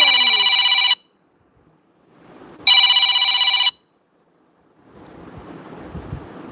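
An incoming call rings on a phone in two loud electronic bursts of about a second each, separated by a pause, followed by gusty wind rumbling against the microphone outdoors.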